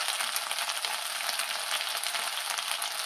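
Cubed onion sizzles and fries with ginger and garlic in a hot pan, a steady, close crackling hiss that runs unbroken with no voices.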